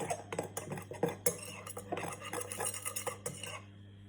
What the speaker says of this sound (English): And my dry ingredients, I'm going to give them a stir.